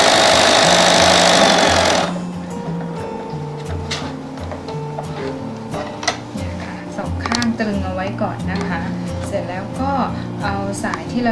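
A sewing machine stitches decorative fabric onto a quilted bag strap, a fast mechanical rattle in short runs after a brief burst of loud noise, with someone talking over it.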